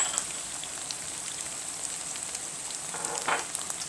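Onions and aubergine frying in a pan, a steady close hiss and crackle of sizzling oil throughout, with a few brighter pops near the end and no talking.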